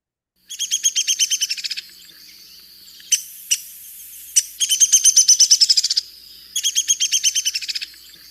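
A recorded songbird repeats a rapid, bright trilled phrase three times with short pauses, several clear single chirps in between, played cleanly with no background noise.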